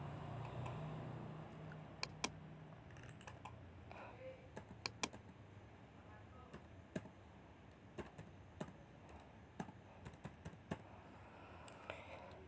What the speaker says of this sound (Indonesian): Misalkan kita asal ngetik